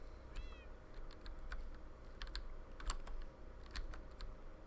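A cat in Minecraft gives a single short meow near the start, with light computer keyboard typing clicking on and off over a quiet background.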